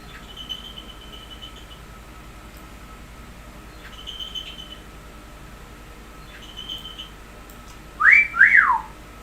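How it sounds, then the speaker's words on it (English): A person whistles alone: faint, thin tones early on, then a louder sweeping two-part whistle near the end. "Here's a whistle, you div."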